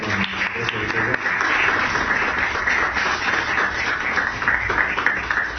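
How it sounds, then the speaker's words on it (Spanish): Audience applause for a speaker at the close of a talk, steady moderate clapping from a room of listeners that continues throughout, slightly muffled. "Pido un aplauso para nuestro expositor."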